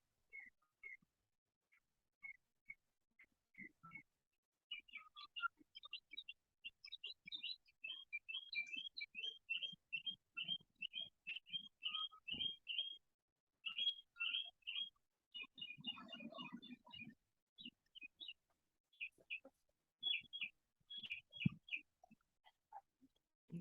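Faint, scattered high chirps and tweets, like a small bird, repeat in irregular clusters for over twenty seconds against near-silence during an online study session.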